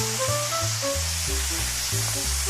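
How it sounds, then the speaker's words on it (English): Burger patty sizzling on a grill in a VR food truck video game, a steady close frying hiss running throughout under bright tonal game music. "Grill the patty to sizzling perfection."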